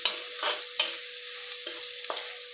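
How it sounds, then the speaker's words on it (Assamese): Spice mix of cumin, coriander, turmeric, chili powder and chicken masala frying in a pan for a chicken curry, with a steady close sizzle broken by several sharp scraping stirs at irregular intervals. "গোটেই মছলাখিনি মই একেলগে লৈ লৈছোঁ। লৈ অকণমান ভাজি দিওঁ।"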